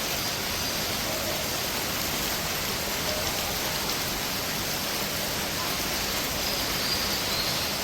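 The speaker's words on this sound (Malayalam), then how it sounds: "ഇവിടെയും മഴ പെയ്തുകൊണ്ടിരിക്കുകയാണ്" Steady rain falls without pause, a dense, even hiss of drops on surfaces heard from nearby, with no voices.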